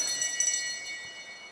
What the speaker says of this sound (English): will come in to get the bell this time